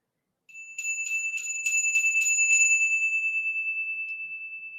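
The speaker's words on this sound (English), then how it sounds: "I'm going to use the bell, so if you need to turn down your volume." A meditation bell struck several times in quick succession, its clear high ring layering and then sustaining into a long, slowly fading tone in a quiet room.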